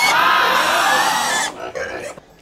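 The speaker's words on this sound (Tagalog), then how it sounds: "Ganda ang ganda ng baboy mo." A pig squeals loudly and continuously at close range, then breaks off into a few short, rough grunts before falling quiet.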